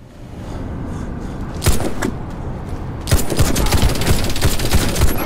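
Gold Desert Eagle pistol hip-fired in Warface, a video game: a single sharp shot, then a rapid string of loud cracks layered over dense background gunfire.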